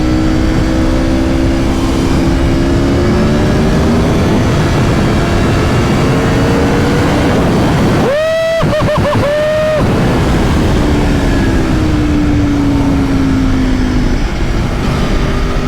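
A 2020 Aprilia Tuono V4 RR ridden on the road with its engine droning under loud, constant wind rush, dipping briefly midway as it shifts down to third gear with quick revving blips before the pull resumes.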